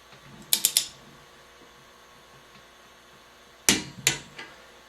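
Engine bolts are tightened to torque with a wrench, two sets of quick metallic ratcheting clicks, about three in each burst, close and crisp with quiet stretches between and no talk.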